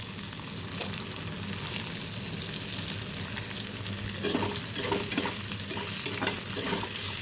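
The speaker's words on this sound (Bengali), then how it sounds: "পেঁয়াজগুলি একটু সামান্য ফ্রাই করে" Onions fry in hot oil for a taro stolon curry, sizzling steadily up close, with stirring scrapes and clatter becoming busier in the second half.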